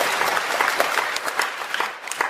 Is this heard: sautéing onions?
no